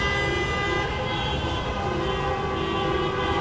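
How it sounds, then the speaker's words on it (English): Car horns blare steadily at a street gathering for Free Azov, forming a continuous dense wall of honking with layered tones and no pauses, heard fairly close amid traffic noise. "a lot of honking today"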